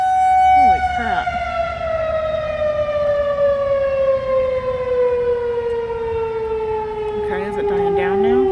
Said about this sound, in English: so that other siren must be just a warning siren